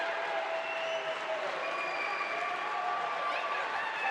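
Crowd at a judo qualification tournament in Paris cheering and clapping, a steady, even roar of applause with some shouts, heard at moderate distance throughout.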